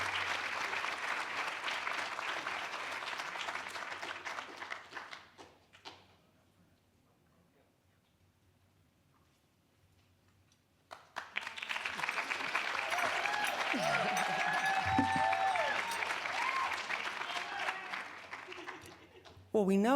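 An audience claps loudly, fades to near silence, then breaks into a second burst of applause with voices mixed in.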